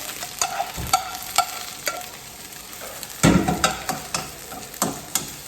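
Vegetables sizzle and crackle in hot oil while being stirred, with repeated scraping clatters of a utensil against the pan at an irregular rhythm.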